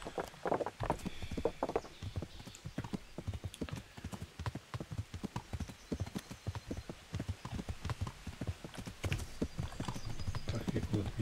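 Hooves of a fast horse in the medieval game Kingdom Come: Deliverance clatter in a steady rapid rhythm through the whole stretch, close and loud, with someone talking over them.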